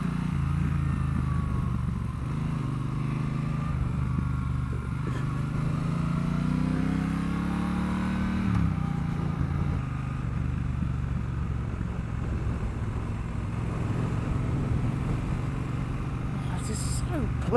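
Triumph Bobber 1200 motorcycle engine running steadily while riding through city streets, a continuous low rumble with a brief rise and fall in revs partway through, heard close under a rider's talking.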